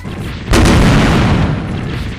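Enhanced ZZ Gundam fires in SD Gundam Online: a loud, booming blast hits suddenly and rolls into a sustained, heavy rumble that slowly fades, with no talk over it.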